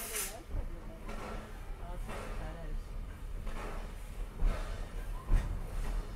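Steady hissing of steam from a steam locomotive fills the scene, with occasional bursts and rumbling machinery beneath, while people talk faintly in the background.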